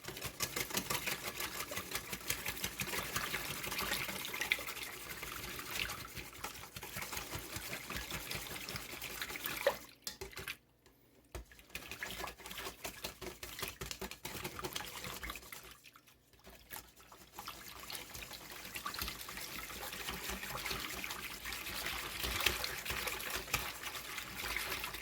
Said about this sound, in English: with the whisk. Let's break up some of this butter,